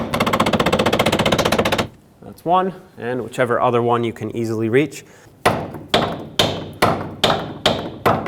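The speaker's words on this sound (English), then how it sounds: "Take your hammer and bend over 2 of the tabs." Someone speaks, then sharp metallic hammer taps ring out one after another at a steady pace, close and loud, bending lock washer tabs on an inner tie rod of a 1996-2002 Toyota 4Runner.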